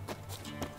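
Horse hooves clip-clop in The Witcher 3 video game, a few brief soft thuds in quick succession over a faint background hum.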